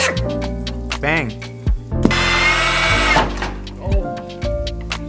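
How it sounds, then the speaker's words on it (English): A power drill bores a large hole through a Ford Foxbody car's wheel well, its high whining bursts starting and stopping between loud tonal voices and shop chatter. "we're gonna drill a big ass gaping hole."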